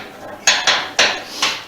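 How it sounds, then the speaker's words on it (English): A 3/4 inch wrench tightening a fitting during a Dakota Digital gauge install on a 2019 Road Glide Special gives four sharp metallic clinks, close and fairly loud, spaced unevenly over a quiet background with no talk. "after we get this tightened up, again with a 3/4 inch wrench"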